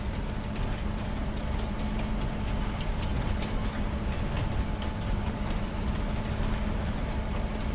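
A passing train in the farming game Farming Simulator 25 gives a steady, dense rumble with rhythmic clicking of wheels over rail joints, constant and loud throughout with no voices.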